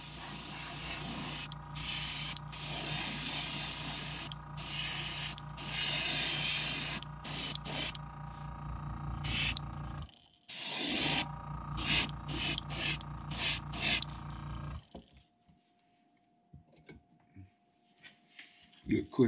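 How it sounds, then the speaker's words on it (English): An airbrush sprays paint onto a crankbait fishing lure, a steady close hiss in repeated bursts broken by short pauses, stopping near the end and leaving a quiet background. "We're going to cover the lower half real good. And up the sides just a little."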